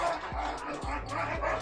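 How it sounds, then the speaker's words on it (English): Dogs barking in short, sharp bursts roughly every half second, close and moderately loud over a busy background bed. "And the dogs are fighting."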